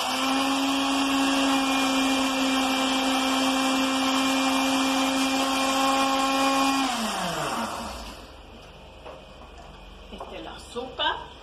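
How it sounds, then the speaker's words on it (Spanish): A kitchen blender whirs loudly and steadily while mixing coconut sponge cake batter with eggs, oil, sugar and milk, then winds down and stops, leaving a few small clatters afterward. "Ahora le volvemos a licuar."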